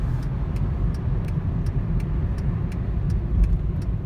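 A 2009 Hyundai Accent with a 1.6-liter four-cylinder engine runs with a steady low drone, close and fairly loud, with a faint regular ticking repeating over the rumble.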